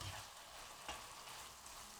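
Vegetables frying in an old, three-year-old Teflon pan, a steady low sizzle with a brief louder crackle partway through, close and continuous with no voices.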